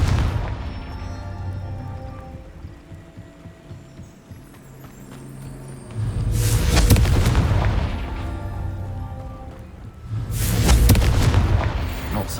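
Two loud, booming bursts from the Confringo blasting curse in Hogwarts Legacy erupt about four seconds apart, each swelling and fading over a couple of seconds above a steady low game ambience.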